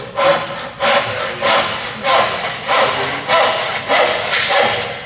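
A hand saw cuts wood on a low saw bench in steady, loud back-and-forth strokes, about eight rhythmic rasping pulses, close by with no speech.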